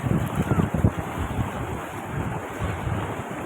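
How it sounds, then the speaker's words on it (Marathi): Rough surf crashes and churns nearby at Murud Beach in Dapoli, broadband and continuous, with heavy wind buffeting the microphone throughout. "हे लाटा खवल्यात"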